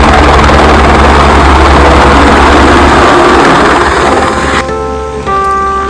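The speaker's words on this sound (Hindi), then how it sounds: "ये हेलीकॉप्टर सर्विस है जो हेलीकॉप्टर से यात्रा करते हैं" A helicopter of the Amarnath Yatra pilgrim service runs at a mountain helipad with a loud, close, continuous engine and rotor roar. Near the end it shifts to a steadier tonal whine.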